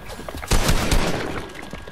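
Gunfire in Fortnite during a three-versus-one fight erupts as a loud, dense burst of rapid shots lasting about a second, then rings out and decays.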